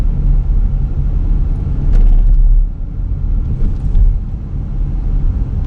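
Car interior rumble while driving slowly through the old mill village of East Tallassee: a loud, steady low road and engine drone with a few soft bumps, and no voices.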